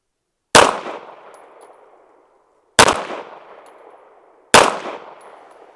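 Three rifle gunshots firing Blazer ammo at a target, evenly spaced about two seconds apart, each a sharp loud crack with a ringing tail that fades, close, with no talking.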